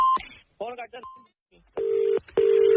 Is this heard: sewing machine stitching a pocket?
no